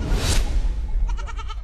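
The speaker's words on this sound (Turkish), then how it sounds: "güzel mi güzel keçilerimiz var" Goats in a pen high in the mountains give a short run of wavering bleats, fairly near, against a windy outdoor background.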